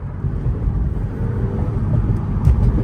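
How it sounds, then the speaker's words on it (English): McLaren 720S engine heard from the cabin on a night drive, a deep continuous low rumble and drone holding steady throughout, fairly loud and close with no talk. "the engine is right behind you, so you hear everything, like every little thing"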